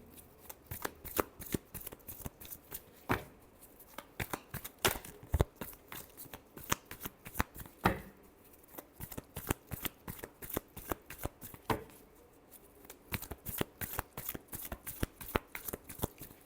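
Tarot cards being shuffled by hand, a steady run of crisp riffling snaps and soft slides close up, continuing with brief pauses throughout.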